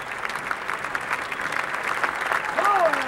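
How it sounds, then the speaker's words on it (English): A golf gallery at the 16th hole of the 1994 Masters final round breaks into rich, sustained applause that builds slightly toward the end, with a voice rising faintly over the clapping. "And now the 16th hole. And rich applause"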